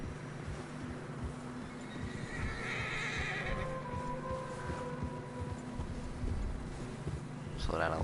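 Horses in fresh snow in the video game Red Dead Redemption 2 whinny and neigh over a steady clip-clop of hooves, with a continuous low rumble and occasional talk in the background.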